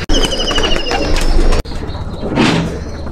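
Imported red-eyed pigeons in a loft coo in a loud, steady, overlapping chorus, with brief chirps and a short wing flutter near the start.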